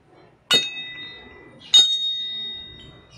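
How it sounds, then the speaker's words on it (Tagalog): A metal medallion struck twice, about a second apart, each hit giving a sharp clink that rings on with a clear, sustained metallic tone, close and fairly loud in an otherwise quiet room. "Talagang pag hinampas ko siya, tagingting talaga ng malakas."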